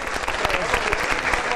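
Lively applause from a studio audience at a quiz game show in Mingachevir, many hands clapping close and loud with sharp individual claps poking through the steady roar, a voice faintly mixed in.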